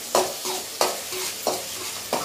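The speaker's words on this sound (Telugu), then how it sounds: "కరివేపాకు, ఆనియన్స్ కొద్దిగా బాగా ఫ్రై చేసుకుంటామండి." Onions and curry leaves fry in a pan, a sizzle rising with four evenly spaced bursts as they are stirred and tossed, close and fairly loud.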